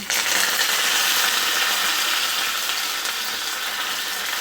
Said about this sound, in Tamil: கடுகு நல்லா பொரியட்டும்